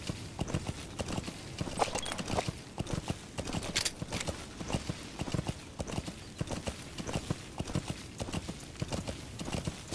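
Steady clip-clop of horse hooves trotting at a quick, even rhythm in the video game Metal Gear Solid V: The Phantom Pain, with a brief whinny-like sound partway through.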